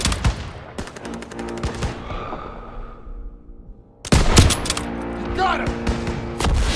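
Call of Duty: WWII battle gunfire: rapid machine-gun bursts and heavy shots, loud and dense. Shouting voices mix in, and a pause is followed by another intense volley with thuds.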